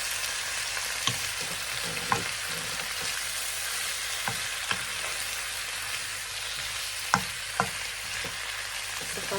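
Garlic shrimp frying in a pan and being stirred: a steady bright sizzle throughout, with sporadic utensil scrapes and taps against the pan, close and fairly loud, no talking.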